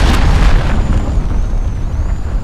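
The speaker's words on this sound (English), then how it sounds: "Allied cruise missile away." A cruise missile blast in the video game Call of Duty: Modern Warfare (PC beta) sounds as a loud, sustained rumbling boom that fills the whole moment with a heavy low roar.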